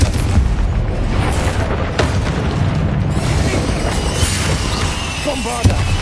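A Confringo fire-blast spell explodes in the Hogwarts Legacy video game, a loud booming burst with rumbling debris over dense game noise and music.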